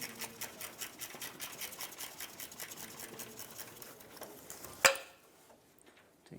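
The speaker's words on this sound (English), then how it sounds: "Unscrew that and loosen up the bracket." A 10mm bolt is unscrewed from a frame bracket on a 1996-2002 Toyota 4Runner, producing a rapid, even run of small mechanical ticks. One sharp metallic clink follows near the end, then near silence.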